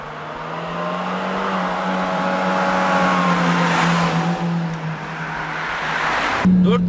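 An Opel Astra Sedan or VW Jetta engine in sport mode revs steadily up toward its limiter near 6,500 rpm, a sustained rising drone that holds high then cuts off abruptly near the end, loud and close.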